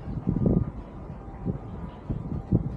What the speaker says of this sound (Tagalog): Malakas ng hangin pa. Gawa nung may bagyo.